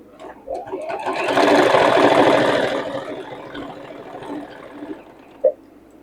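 A sewing machine top stitches fabric for a circle bag, one close run that swells for a couple of seconds and then slows, ending with a small click.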